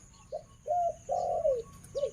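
A female spotted dove gives a short series of soft, hollow coos, four phrases with brief pauses, close by in a quiet setting.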